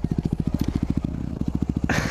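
Motorcycle engine idling with a fast, even, pulsing thump, a short stutter in the middle, then a sudden rise in revs near the end as the rider prepares for a wheelie.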